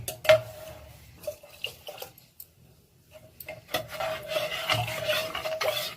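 A glass of water is poured into a curry mix seasoned with green chili. Clinks of utensils and a short stir come first, then a brief quiet, then a louder gush and splash of liquid into the pot.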